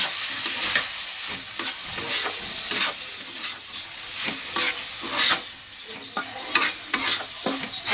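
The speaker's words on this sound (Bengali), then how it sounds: "ভরিটা এখন এখানে দিয়ে দিলাম এটা ভালো করে কষাবো" Boiled tripe being sautéed with spices in a pan gives a loud, close sizzle cut by frequent scraping stirs, which come in irregular bursts.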